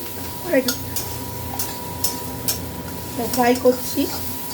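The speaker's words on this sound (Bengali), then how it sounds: "দেখো বন্ধুরা, আমি ফ্রাই করছি" Something fries in a pan before tomatoes go in for a sour soup, with a spoon stirring and clinking against the metal in irregular light taps and a faint sizzle, while a person talks over it.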